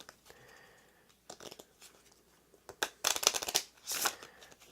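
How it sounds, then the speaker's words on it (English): A deck of playing cards is reshuffled between rounds of a tabletop card game, soft riffling and tapping that ends in two brisk, louder shuffle bursts, close and quiet otherwise. "those are going to be reshuffled and redealt out for the next round"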